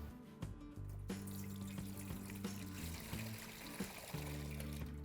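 Water running and splashing into a metal idli steamer pot, a steady close pour with trickling, changing tones as the vessel fills.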